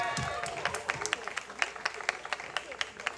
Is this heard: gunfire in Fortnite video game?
no